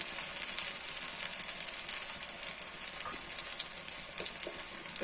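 Pumpkin flower fritters in a gram flour, sattu and arrowroot batter fry in hot oil, giving a steady, close, dense sizzle with crackling pops throughout and no talking.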